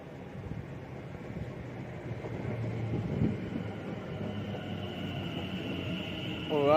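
A West Midlands Railway class 730 electric multiple unit pulling into a station, a steady low rumble of the train rolling closer, ending with a rising whine and squeal as it slows.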